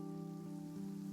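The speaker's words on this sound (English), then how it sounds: "It's raining." Light rain falls steadily in Genshin Impact, a soft continuous patter heard alone beneath a low sustained background tone, no voices.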